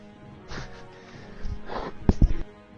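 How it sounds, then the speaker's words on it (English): A person coughs and snorts close to the microphone, with a few short harsh bursts toward the end after some breathy throat noises. "sorry for coughing in everybody's face"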